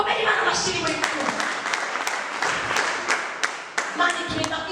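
A church congregation claps and applauds together, a dense continuous rattle of many hands with some sharper individual claps, while a voice speaks over it.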